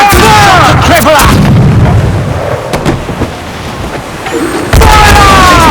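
Ship cannons in the pirate video game Assassin's Creed Black Flag boom in a heavy, rumbling barrage during a naval battle, with booming reports at the start and again near the end and a continuous roar between.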